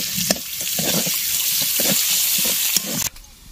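Chopped onions frying in mustard oil in a kadai, with a steady hiss and a series of rhythmic stirring scrapes close by, ending in a sharp clatter and then a quieter tail.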